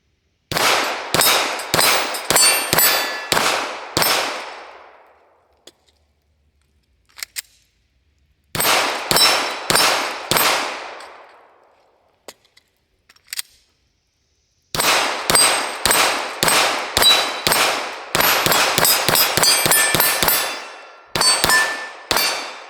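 Rapid gunfire rings off steel targets at a shooting range as three magazines are emptied, loud close bursts of quick shots each followed by a ringing clang, separated by short pauses for reloading.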